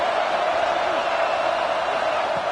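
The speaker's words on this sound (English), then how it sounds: "listen to this crowd noise. This stadium is vibrating" A football stadium crowd roars loudly and steadily, a dense, continuous wash of noise with faint whoops inside it.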